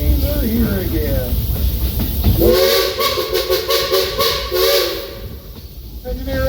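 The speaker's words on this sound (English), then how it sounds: "Engineer Ichabod, what are you blowing that whistle for, son?" A train's steam whistle blows a loud, sustained, slightly wavering tone for a couple of seconds, then cuts off into hiss, following a stretch of voice.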